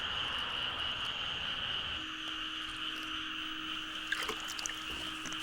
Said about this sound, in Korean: 금개구리가 많이 산다는 인천 영흥도.